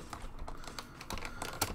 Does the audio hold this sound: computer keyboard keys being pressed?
yes